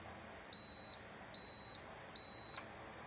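Three evenly spaced electronic beeps, each about half a second long, from a Breville Barista Express espresso machine during a factory reset, sound close by against near silence.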